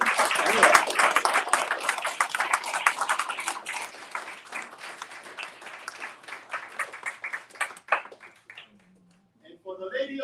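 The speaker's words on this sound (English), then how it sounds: "Please help me to give another round of applause to Mayor Jeffrey Clayton." An audience at an event supporting a judicial candidate applauds the mayor, with loud clapping that gradually thins and fades out before a voice speaks briefly at the end.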